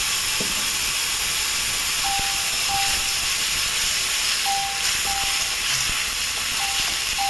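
Spice paste hitting hot oil in a pan while doi katla cooks, giving a steady, loud hiss and sizzle that runs throughout with faint intermittent clicks and tones.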